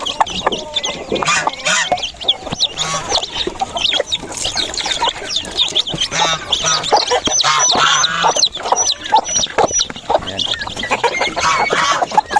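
Small chicks cheep among adult chickens kept beneath trees on a small farm, where shrill peeping mixes with clucking and occasional honk-like calls, busy and close throughout.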